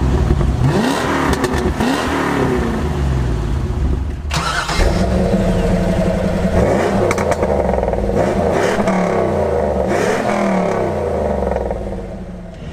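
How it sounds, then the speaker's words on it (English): A Chevy Corvette with a 5.7 V8 revs hard, loud and close, its deep engine roar rising and falling through several throttle blips across a steady idle, with no talking over it. "But Case, let's hear what that Corvette sounds like."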